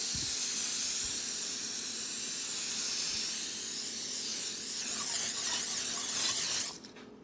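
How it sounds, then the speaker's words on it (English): A long, steady hiss of an aerosol cooking spray, close and continuous for several seconds, roughening near the end before it abruptly cuts off. "Make sure to spray your pan."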